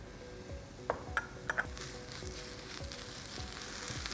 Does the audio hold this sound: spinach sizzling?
yes